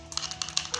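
Two eggs beaten briefly with a utensil in a bowl for chayote fritters, a quick run of light, rapid tapping clicks, close and crisp, with no talk.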